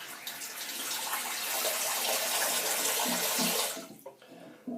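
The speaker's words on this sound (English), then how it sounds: "I'm going to run more water." Water runs steadily from a tap into a sink or shaving bowl, a loud broadband rush that holds for several seconds and then cuts off abruptly, leaving faint trickles and drips.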